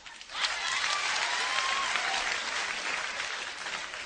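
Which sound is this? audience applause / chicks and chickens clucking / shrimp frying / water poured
audience applause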